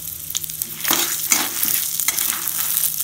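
Urad dal lentils fry and get stirred in a pan while making curry leaf spice powder, giving a steady close sizzle broken by several louder scraping stirs, with no voices.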